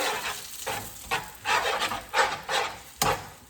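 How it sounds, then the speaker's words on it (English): Egg is stirred into hot pasta carbonara in a pan, producing rhythmic scraping and rubbing strokes over a soft sizzle, close and fairly loud, with about five distinct swishes. "Now I'm adding in the egg. And I'm stirring constantly"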